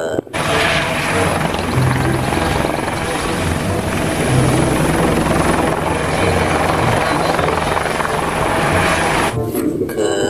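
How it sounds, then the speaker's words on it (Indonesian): A loud, steady whirring of toy helicopter rotors runs nearly unbroken and fills the foreground before cutting off near the end, with faint speech underneath. "Helikopter."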